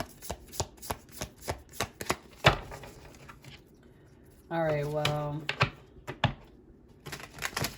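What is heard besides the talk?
shuffling a deck of cards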